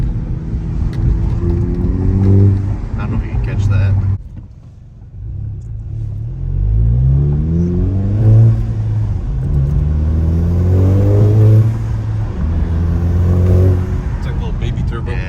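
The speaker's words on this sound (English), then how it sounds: "You can definitely hear the turbo a lot more than stock though still." Volkswagen MK7 GTI 2.0T with an APR carbon fiber intake, engine revving in loud rising pulls, brief drop near four seconds, then repeated climbs with audible turbo character, with a voice speaking briefly.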